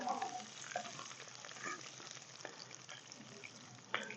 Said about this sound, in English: I'm just going to let this butter melt in here into the bacon grease